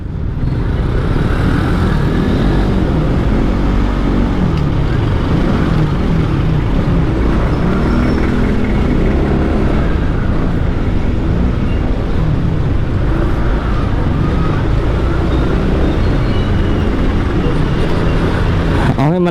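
Road traffic heard from inside a vehicle on a ride through Manila, a loud continuous engine and road rumble with steady drone and no pauses.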